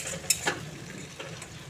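Ground onion paste fries in a pan with a low hiss, and a couple of quick spoon clicks and scrapes sound early as it is stirred.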